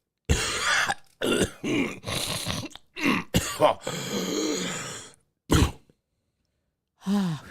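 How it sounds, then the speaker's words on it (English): Several bursts of throat clearing and raspy vocal noises, fairly close, separated by short silences, with a longer rough stretch in the middle. "I think I need to pause for the cause and clear my throat just one moment, please."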